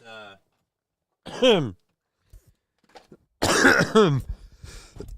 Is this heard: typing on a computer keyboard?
no